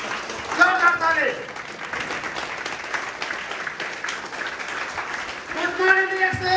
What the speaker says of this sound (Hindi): प्लीज आप लोग उठ करके जोरदार ताली लगाइएगा